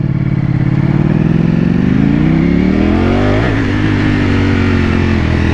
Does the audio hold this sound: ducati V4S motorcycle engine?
yes